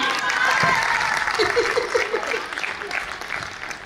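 A burst of audience applause at a Hindi comic poetry show, dense clapping that swells and then gradually thins, with a little crowd chuckling mixed in.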